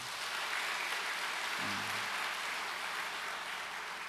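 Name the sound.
audience applause in church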